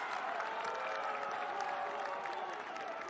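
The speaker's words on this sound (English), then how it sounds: "the crowd is calling a good game every time they yell for something" A soccer crowd at a boys' state championship match yells and roars continuously, a dense, steady wall of many voices with some clapping mixed in, sustained and fairly loud throughout.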